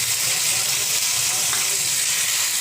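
Tomatoes sizzling in a frying pan with golden onions and cashews while cooking paneer butter masala, a steady close hissing fry with no pauses.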